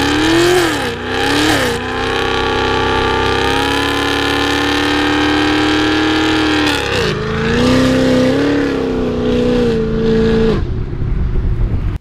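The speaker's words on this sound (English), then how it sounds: "And then the final one was a nice epic burnout." A 2016-2024 Chevrolet Camaro SS V8 does a burnout with a line lock, a loud sustained high rev with pitch swells and a sharp drop near the end, close to the car.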